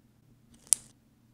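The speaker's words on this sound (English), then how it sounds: "you're going to hear a nice click" A single sharp, bright metallic click from the box clasp of a 7mm box-cut Miami Cuban link chain snapping shut, very close and isolated against near silence.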